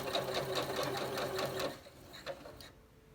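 A Singer Quantum Stylist 9960 sewing machine run with a foot pedal stitches in a fast, even mechanical rattle for under two seconds, then stops, followed by a couple of faint clicks.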